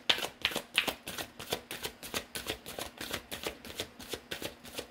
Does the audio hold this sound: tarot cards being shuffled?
yes